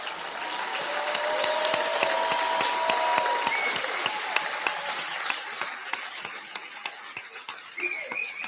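Sustained applause fills a graduation ceremony hall, a dense, even wash of clapping from a large audience that gradually thins and tapers toward the end.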